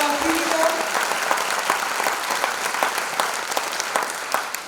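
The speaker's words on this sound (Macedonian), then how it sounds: "ве замолувам со еден огромен аплауз да ги поздравиме" Audience applause at a nursing ceremony, a steady dense clapping from a large crowd filling the hall, loud and continuous throughout with a faint voice under it at the start.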